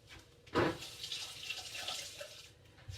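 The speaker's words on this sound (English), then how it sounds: "give your hands a rinse" Hands rinsed under a kitchen tap, a short burst of running water that opens with a splashy onset and then trickles steadily, quiet and close with no talking.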